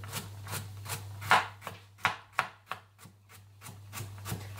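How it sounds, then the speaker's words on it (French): A knife chopping chicken into small squares on a board, steady close knocks of the blade at an even rhythm with a low background hum. "Ensuite, je vais tout simplement couper. Je fais des petits"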